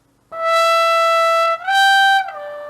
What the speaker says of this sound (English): You can really hear that breathing noise behind